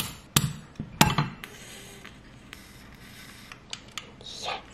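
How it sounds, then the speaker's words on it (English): Scissors snip candle wicks on a fresh candle at home, two sharp close clicks near the start followed by softer scattered taps and handling noises, with no talking. "Let me give these wicks just a little trim."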